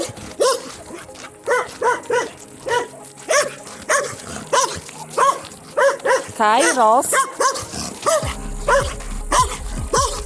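Long-haired German Shepherd barking repeatedly in close, loud bursts, with someone talking and calming the dog in between and over the barks.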